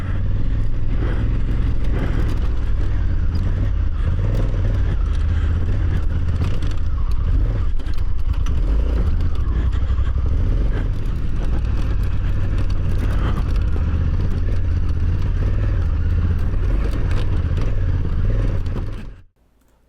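A 2020 Honda Africa Twin motorcycle engine climbs off-road, a loud, continuous engine drone with scraping and clattering of terrain, cutting off abruptly at the end.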